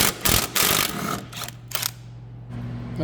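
Ratchet wrench loosening 15mm bolts from the steering rack of a C4 Corvette, giving several short bursts of rapid mechanical clicking, close and fairly loud, separated by brief pauses with a low hum underneath.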